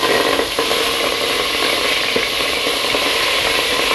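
Hot oil sizzles and hisses loudly and continuously as a condiment mixture is poured into a pan while making macaroni, a dense close frying sound with faint stirring.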